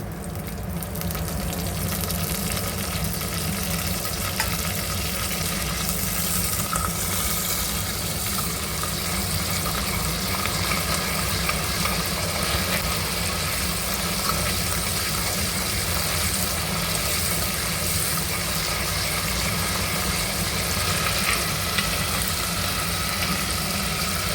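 Curry leaves sizzle in hot oil in a pan while green chilli pulusu is cooked, a steady, even frying hiss that runs unbroken throughout with no talking.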